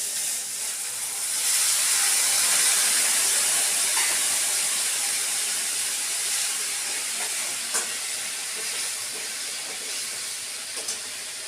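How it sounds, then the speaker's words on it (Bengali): Hot water poured into a hot pan of prawn and bean-seed curry, giving a loud, steady steam hiss that surges early and holds for several seconds before easing slightly. "এবার এর মধ্যে গরম জলটা দিয়ে দেবো।"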